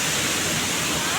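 A waterfall at a scenic spot near Ghatagaon in Keonjhar, heard as a steady, loud broadband rush of falling water with no breaks, filling the short moment.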